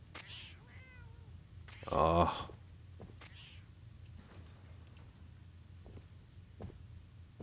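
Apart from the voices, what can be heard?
cat meowing in Fallout 4 video game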